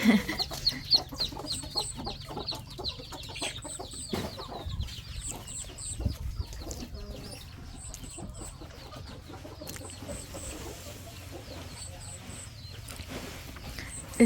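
Chickens cluck over a busy farmyard at a rural Thai home during rice milling, with repeated short calls throughout amid people talking and steady background activity.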